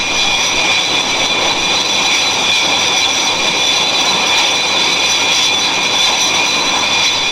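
A Blackburn Buccaneer Mark II jet strike aircraft with Rolls-Royce Spey engines roars loudly and continuously, its engine whine steady and close throughout.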